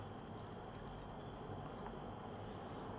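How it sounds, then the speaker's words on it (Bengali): Half a cup of water is poured into a semolina (suji) and yogurt batter for an oil-free Bengali snack, giving a soft, steady trickling wash that stays quiet and continuous throughout. "এর সঙ্গে আরও হাফ কাপ জল দিলাম।"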